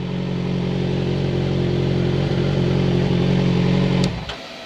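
A Yamaha FZ6R motorcycle engine idles loud and close with a steady low drone, then cuts off abruptly near the end, leaving a brief clatter and quiet.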